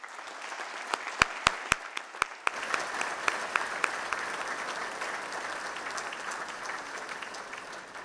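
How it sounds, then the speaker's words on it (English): Audience applause at a graduation ceremony for agricultural and environmental sciences, opening with a few sharp isolated claps and then swelling into steady, dense clapping from a large crowd that carries on to the end. "And so they too deserve a big round of applause."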